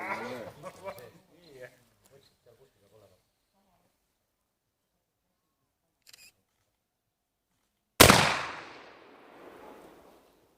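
Someone talks briefly, then after a quiet pause a single sharp replica revolver gunshot cracks loudly and rings out with a fading echo, at a shooting competition.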